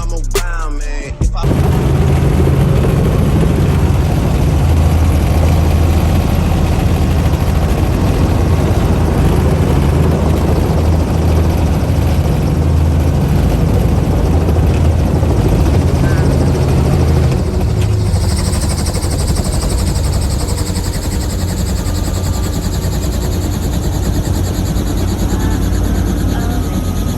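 A helicopter in flight during a passenger ride gives a loud, unbroken rotor and engine roar throughout, opening with a brief bang.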